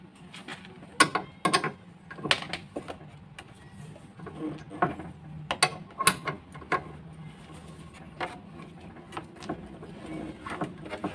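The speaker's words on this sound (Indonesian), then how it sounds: "kuncinya saya pakai nomor 14, jadi semuanya 14 ya, yang bagian atas ya 1, 2, dan samping kanan kiri juga sama 14" A size 14 wrench works on the bolts of a motorcycle shock absorber, giving scattered metallic clicks, ratcheting ticks and clanks in an irregular rhythm, close by and fairly quiet.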